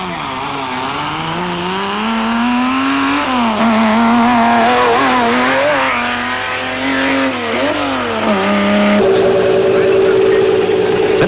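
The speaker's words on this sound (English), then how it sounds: "Philip Malone and Richard Leake were the first of the Bucky Brigade to be flagged away" Rally cars at the start of the 1991 Settler 500 are flagged away, engines revving loudly and climbing in pitch through the gears, close and sustained, with a narrator speaking over them.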